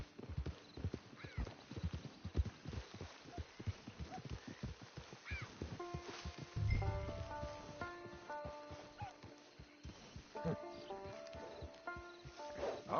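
A horse in Red Dead Online clip-clops along at a steady walking rhythm, then lets out a loud whinny midway and another neigh toward the end, close and clear.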